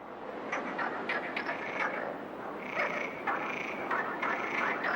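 Frogs croak in a chorus in spring water, a dense overlapping racket of rasping calls filling the whole stretch with no talk.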